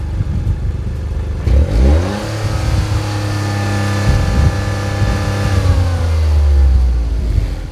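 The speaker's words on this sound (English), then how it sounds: "there's the turbocharged 3-cylinder" A Toyota GR Corolla's turbocharged 1.6-liter three-cylinder engine revs up loudly and close, pitch climbing through repeated pulls and gear changes as the car accelerates, with no one talking.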